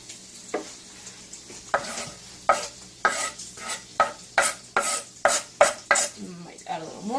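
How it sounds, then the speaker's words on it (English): Rosemary being mixed into panko breadcrumbs in a bowl, a series of close, rhythmic scraping and stirring strokes, roughly a dozen in about seven seconds, with no talking over them. "Mix my rosemary into my panko."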